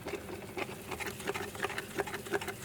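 Resin mixture for keyrings being stirred in a cup, a rapid patter of small scraping and tapping strokes repeating steadily against a constant background hum, with no talk.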